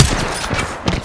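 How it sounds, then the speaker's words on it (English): Enemy gunfire in Apex Legends, a brief, loud burst of rapid shots up close lasting about a second with no voices. "They're shooting at me."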